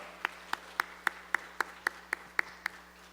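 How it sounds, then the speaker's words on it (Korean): Ten evenly spaced sharp claps from a church congregation, roughly one every quarter second, with a low steady hum underneath and no voices. "우리 다시 한번 이도성 집사님 박수로 축복합니다."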